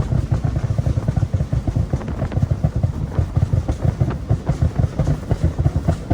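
Nissan G35 engine held at steady RPM after an Uprev tune, exhaust popping in a rapid, rhythmic burst of crackles like machine-gun fire, loud and close, no talking.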